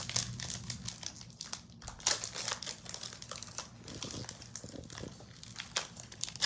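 A 2020 Topps baseball card hanger pack's foil wrapper is torn open and crinkled close by, giving a continuous stretch of crackling, rustling plastic with sharper tearing bursts and no talk.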